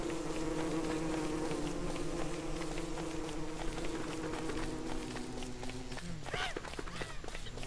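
Bees buzzing in the island survival video game Don't Starve Shipwrecked, a steady droning hum that runs through the whole stretch alongside game music and footstep-like effects.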